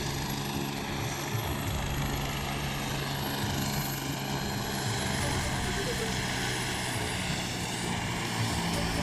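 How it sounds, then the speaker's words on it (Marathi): A landing helicopter's loud, continuous rotor and engine drone dominates, steady and close, with a high whine running across the top, as it sets down in a car park. "मंत्री छगन भुजबळ यांचं हेलिकॉप्टर लँड होतानाची घटना आहे।"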